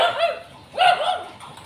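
A dog barks in a residential subdivision in Thailand, giving two short bursts of yappy barking with a whiny edge, separated by a brief pause, fairly close and with no talking.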